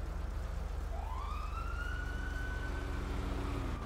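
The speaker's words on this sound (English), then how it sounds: "That's sirens." A police siren in the video game GTA roleplay wails, rising and then holding a long tone over a constant engine drone, sounding some distance away.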